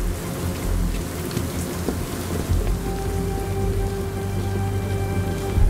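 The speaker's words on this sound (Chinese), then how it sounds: "我听到这个里面雨点的声音" Rain in a Batman video game, a dense continuous downpour hissing close by with low rumbling underneath and no talk.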